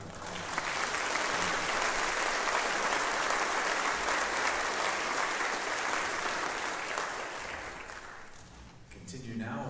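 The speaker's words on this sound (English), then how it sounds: "How about a round of applause?" Sustained audience applause for a United States Coast Guard ceremonial line guard at a band event, loud and steady clapping for about eight seconds before tapering off as a voice begins.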